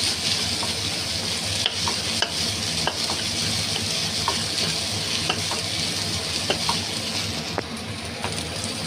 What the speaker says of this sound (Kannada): ಈಗ ಇದನ್ನು ಚೆನ್ನಾಗಿ ಮಿಕ್ಸ್ ಮಾಡ್ಕೊಳ್ಳಿ. ಸ್ವಲ್ಪ ಚೆನ್ನಾಗಿ ಫ್ರೈ ಆಗಲಿ.